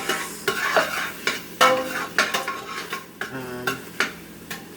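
Veggies sautéing in butter in a pan, with a steady soft sizzle under repeated scraping and clinking strokes of a utensil against the pan, close and moderately loud, no voices.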